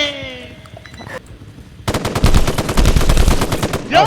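Rapid automatic gunfire in a multiplayer horror video game about hunting monsters, a dense burst of sharp repeated shots after a brief lull with fading electronic tones, loud and close.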